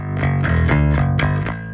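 Aggressive bass guitar, heavily compressed and distorted, plays a loud sustained riff of several bitey notes with bright, gritty harmonics, alone with no talk.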